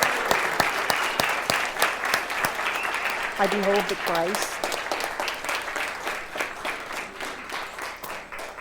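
Church congregation applauding and cheering for new members, steady sustained clapping throughout with a voice speaking briefly in the middle.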